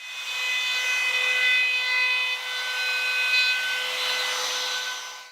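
A router fitted with a bearing-guided bevel bit trims the edge of a plastic laminate tabletop, giving a steady high-pitched whine with bright tonal harmonics that stays loud and close for the whole stretch without pause.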